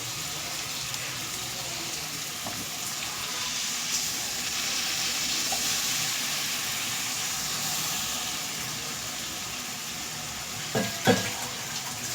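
Ground paste poured into hot oil with eggplant for a gravy sets off a continuous loud hissing sizzle, steady throughout, with a couple of sharp utensil knocks near the end.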